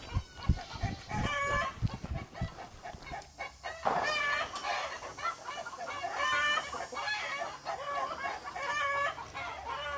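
Chickens cluck busily in a coop, with a rooster crowing over a dense, continuous chorus of nearby clucks and squawks.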